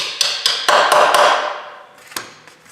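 Sharp hammer blows knock a pin out of a motorcycle foot peg on a CRF300L during a wide peg install: five quick metallic strikes in a row, then a pause and one more blow, close and loud with no talking.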